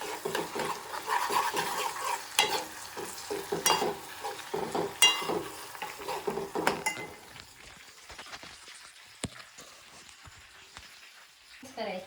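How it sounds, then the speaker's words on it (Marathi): Hair oil with curry leaves, fenugreek and hibiscus bubbles and crackles in a pan on a stove while being stirred with clinking scrapes, and someone talks over it before the sizzling fades to a soft low hiss. "जराही गॅस चालू करून कुठेही जाऊ नका, कारण की तो एक कढीपत्ता, मेथी, जास्वंदी थोडी चांगली मिक्स झाली पाहिजे"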